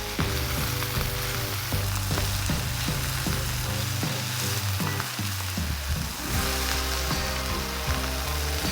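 Vegetables frying in a pan with a little butter, a loud, steady sizzle and crackle that continues without a break, with faint scraping and stirring underneath.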